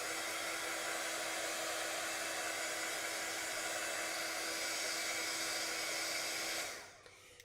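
A hair dryer blows steadily and loudly across an acrylic painting, a constant broadband whoosh with a fixed motor hum that runs almost the whole time and then shuts off near the end, leaving quiet.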